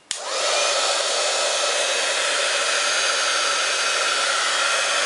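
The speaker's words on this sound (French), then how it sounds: "vous prenez votre pistolet chauffant, et là, ça va faire un petit peu de bruit" A heat gun blows hot air over puffy decorative snow paint so it swells, a loud, steady whooshing roar that starts abruptly and runs unbroken close to the mic, with no speech.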